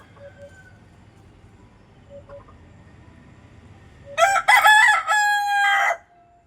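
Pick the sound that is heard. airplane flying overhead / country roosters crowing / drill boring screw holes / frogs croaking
country roosters crowing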